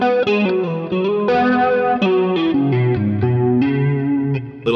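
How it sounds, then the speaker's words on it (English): Electric guitar chords ring out with a wavering, pulsing effect on the sustained notes, played steadily and loud with no voices. "you put on the tremolo"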